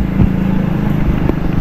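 A small vehicle's engine underside scrapes along a rough road, heard as a loud continuous engine rumble with low grinding and a couple of brief knocks, close and without talk.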